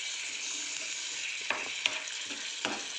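Spicy fried idli pieces with coriander are tossed in a hot pan, making a quiet, even sizzle punctuated by three or four light utensil taps.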